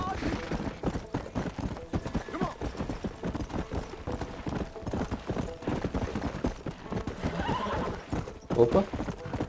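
Horse hooves clip-clop at a fast gallop through a Red Dead Redemption game scene, with whinnies and neighs rising over a busy mix and someone talking throughout.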